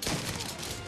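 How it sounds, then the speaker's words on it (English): A single shotgun blast in the Mafia video game, a sharp loud report with a short rumbling decay, heard on its own. "One shot and you're dead."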